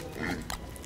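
Pigs in the video game Don't Starve give a short, close grunting snort against a dense game soundscape.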